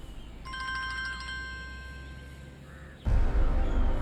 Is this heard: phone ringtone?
yes